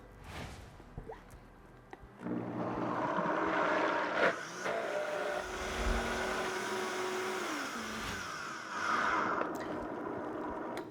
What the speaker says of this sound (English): We're going to just mix it up with our high-speed blender. This might be a little loud.